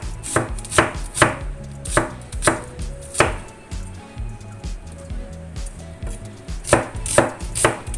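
Shallots being chopped with a knife on a cutting board, a series of crisp, close thuds in uneven bursts with brief pauses between runs.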